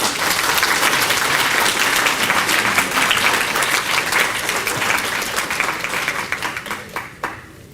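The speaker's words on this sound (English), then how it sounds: "I want you to give a very warm round of applause and appreciation for our panel" An audience gives a panel on public pension reform in Louisiana a warm round of applause, with dense, sustained clapping that thins out and fades to a few last claps near the end.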